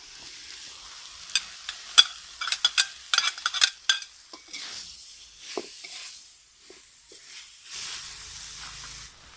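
Eel is stir-fried with vegetables, krachai, kaffir lime leaves, holy basil and green peppercorns. A run of quick, close spatula scrapes and clacks gives way to a steady hissing sizzle from the wok.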